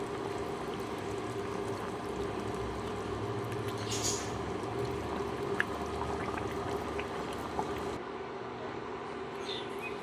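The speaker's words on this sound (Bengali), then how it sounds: "মাছগুলো দিয়ে আরও সাত থেকে আট মিনিট ফুটিয়ে নিতে হবে" Aar fish curry with potatoes simmering in a pot, giving a steady, dense bubbling boil that stays even and close throughout with no voices.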